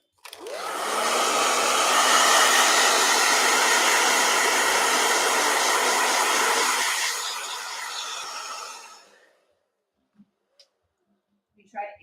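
A blow dryer switches on and runs with a loud, steady whirring roar for several seconds, drops to a lower setting, then shuts off, followed by a few faint clicks in near silence.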